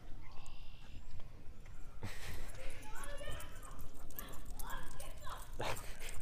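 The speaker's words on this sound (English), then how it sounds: "These are Nigel's dogs." Dogs bark and whimper at a camp, the barks and yips clustering in the second half while a person talks over them.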